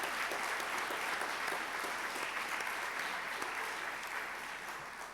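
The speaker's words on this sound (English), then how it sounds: "please help me give them a round of appreciation and applause" Steady applause from an audience at a campus community gathering, dense and sustained clapping throughout, slowly tapering near the end with no talking over it.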